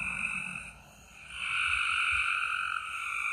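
Frogs croak in a steady chorus of sustained, overlapping calls that dip briefly and then swell louder again, with no voices over them.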